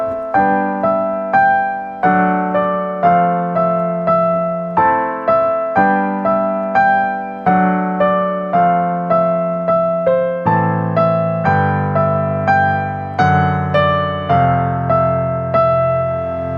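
A synth arpeggio plays a steady, repeating pattern of clustered plucked notes in a regular pulsing rhythm, shifting chords every bar or two, clear and alone without talking.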